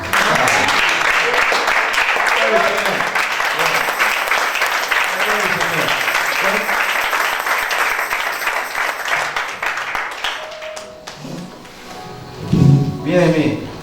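A church congregation applauding in praise of the Lord, a loud sustained wash of clapping that fades out toward the end as a voice begins speaking.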